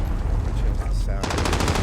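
Hip-fire gunfire in a Call of Duty game rings out loud and close, with a brief burst followed by a rapid automatic volley of evenly spaced shots.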